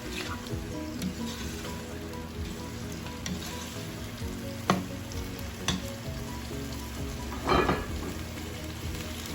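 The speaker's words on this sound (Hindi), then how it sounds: "इसको मैं भून लूंगी।" Chicken with okra fries in a pan, a steady low sizzle with occasional clinks and scrapes of a spoon against the pan, fairly faint and without talk.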